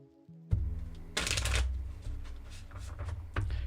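Tarot cards are shuffled close up, with a brief riffle burst followed by softer sliding and tapping of the deck.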